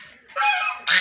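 Ducks on a mixed farm give two loud, harsh honking quacks close by, a short call followed by a brief pause and then another burst, with no talking.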